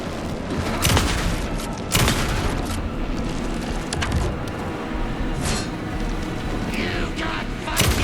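Gunfire in Alan Wake 2, with a few sharp shots standing out at irregular intervals over a dense, noisy game mix, voices talking over parts of it.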